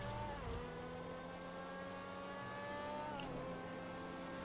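A car in GTA 5 accelerating, its engine tone climbing steadily through the gears with a clear shift partway, loud and continuous with no talking.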